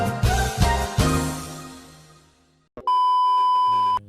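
A camera gives a single long, steady electronic beep as its recording timer runs out, sounding clearly and alone after a fading musical tone.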